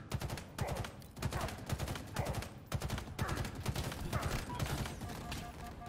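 Steady, fast automatic gunfire in Halo Infinite rattles on without pause, close and dense, with a voice talking faintly underneath.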